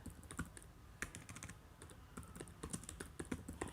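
A name being typed on a computer keyboard, with quick, light, steady keystrokes running close by and no talking.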